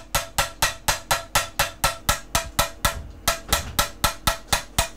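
A medium hammer beats on a small silver reliquary in a metalworking workshop, ringing out in a steady, drum-like rhythm of about eighteen sharp, close strikes with no talk over them.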